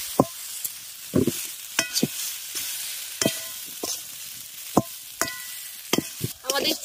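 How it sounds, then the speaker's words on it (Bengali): A potato masher repeatedly thumps and scrapes through a potato filling for a flattened-rice cutlet in a pan over low heat, giving irregular close knocks over a soft, steady sizzle. "আঁচটা একটু কম করে রেখেই আমি ভালো করে একটা পটাটো মেশার দিয়ে সমস্ত কিছুকে ম্যাশ করে নিচ্ছি"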